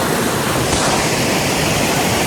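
River water rushing hard under strong pressure fills the air with a loud, dense, unbroken roar close by.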